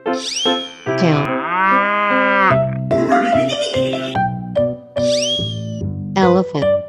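A cow in a 3D animal video game gives a long, drawn-out moo among other stretched animal calls, all layered over bright, continuous game music that stays loud throughout.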